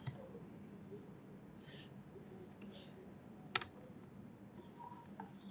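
Quiet keystrokes on a computer keyboard while commands are entered in a terminal, sparse clicks with one sharper key press partway through, close by over a low background hum.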